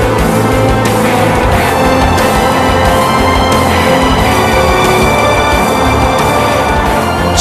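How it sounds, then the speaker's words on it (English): A car driven up to maximum speed on a tire test rig in a Michelin facility, producing a loud, steady broadband roar with tonal whine, continuous and unbroken throughout. "They run the car up to maximum speed."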